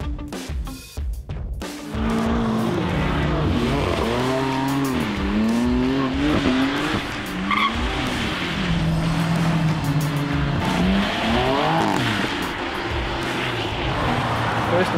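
BMW M3 Competition Pack lapping a racetrack, its engine note rising and falling through gear changes with rapid revving sweeps, loud and close, while a voice speaks over parts of the run.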